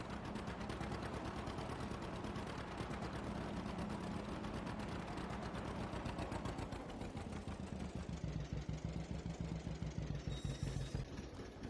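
A John Deere tractor engine idles steadily in Farming Simulator 22, a continuous close mechanical chug with a fast even pulse, alone without talk.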